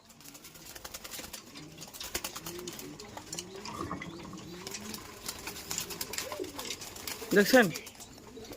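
Pigeons coo softly and steadily nearby while eating grit of brick particles and stone from a bowl, with a louder burst of cooing near the end; someone talks over them throughout.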